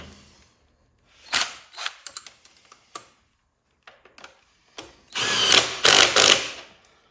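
A power impact wrench drives a nut tight while assembling a Honda CT70-style minibike, firing several short rattling bursts, near and loud, with quiet gaps and a longer hammering run at the end.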